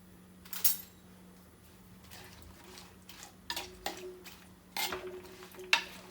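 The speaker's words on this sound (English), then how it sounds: "Give a toss." Vegetables for Kerala aviyal tossed and stirred in a pan, with scattered light clinks and scrapes of a utensil against the pan, several sharp taps spaced irregularly, quiet and close.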